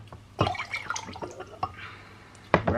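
Melted wax is poured back and forth between containers, giving soft liquid trickles and drips with a few sharper clinks at the start and end of the pours.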